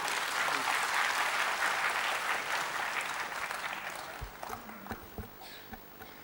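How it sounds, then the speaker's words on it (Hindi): Audience applause at a golden jubilee celebration, a dense sustained wash of clapping from a large crowd that slowly thins and fades, leaving a few scattered claps and thumps near the end. "आप सबकी जोरदार तालियों के साथ"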